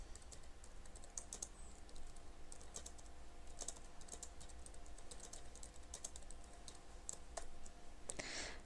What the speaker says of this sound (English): you just simply type and press post and it comes on